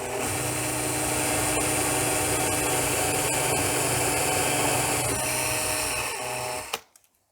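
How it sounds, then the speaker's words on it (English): A power drill boring a guide hole through wood for a soap mold: a continuous loud, close motor whine with grinding texture that holds steady for several seconds and then cuts off abruptly. "you're going to slowly drill through the first part until you touch the other side"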